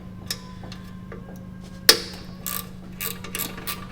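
Hand ratchet working on studs of a riding mower engine, quick clicking pawl ticks with one sharp metallic clack, close and moderately loud over a low background hum.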